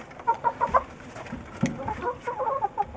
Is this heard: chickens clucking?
yes